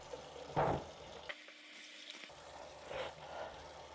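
Running tap water splashing over hands being washed with soap at a kitchen sink, a steady close hiss with louder bursts where the hands move under the stream.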